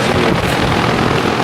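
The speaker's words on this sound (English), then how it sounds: "Starting to think the bearings are going out or are out on the fucking fan motor." An air conditioner fan motor with failing bearings runs with a loud, steady mechanical whir and rumble, continuous and close throughout with no speech.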